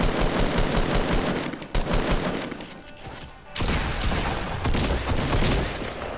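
Sustained automatic gunfire in a Fortnite match, continuous rattling bursts with a brief drop in the middle before heavy firing picks up again, loud and close throughout.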